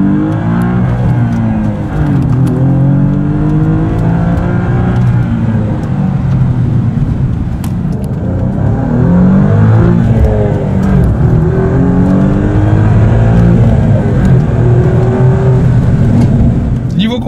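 A 2018 Alfa Romeo Giulia Quadrifoglio accelerates hard from inside the cabin, its loud engine note repeatedly climbing in pitch through the gears as the exhaust valves open, with a voice talking over it.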